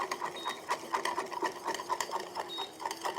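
A whisk beats egg yolk custard in a pot with rapid, steady rhythmic scraping and tapping against the metal. It is close and moderately loud, continuous throughout, with no talking.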